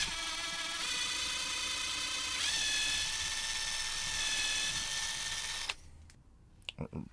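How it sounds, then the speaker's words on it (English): A drill bores a hole to run fast visco fuse through for a smoke screening device, whining steadily and shifting pitch partway through, then stopping into quiet clicks and handling sounds. "I'm going to drill this hole here to run the fast visco fuse through."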